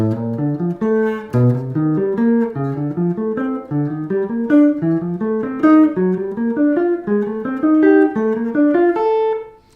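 Piano chords climbing step by step up a major scale, each chord struck clearly and ringing briefly before the next, with no voices.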